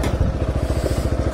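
A scooter being pushed indoors, its low-slung engine underside touching the ground, gives a steady, rhythmic low rumbling scrape with a regular pulsing clatter, close and continuous.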